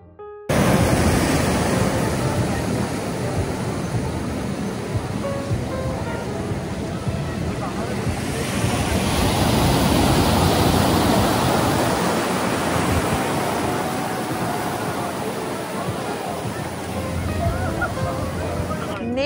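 Ocean surf at Santa Monica beach pier, a broad continuous wash of waves that swells louder midway and then eases, heard steadily with wind-like noise throughout.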